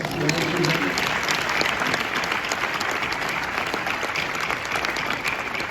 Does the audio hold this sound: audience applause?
yes